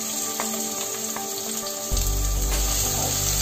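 Crushed green chili, garlic and ginger hit hot oil in a kadhai (wok) and burst into a loud, steady sizzle that continues without talk after a short quieter hiss.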